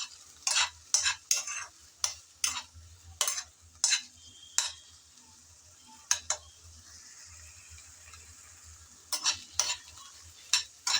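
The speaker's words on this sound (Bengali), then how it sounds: "এখন দিয়ে দেব আগে থেকে ভেজে রেখেছিলাম আর পরিষ্কার করে রেখেছিলাম সেই শুটকিগুলো। একটু নেড়ে চেড়ে নিয়েছি।" Dried fish (shutki), fried beforehand, is stirred in a pan while making a coriander-leaf mash. A series of sharp scraping strokes comes in quick bursts, pauses, then resumes, close and fairly clear with no talking.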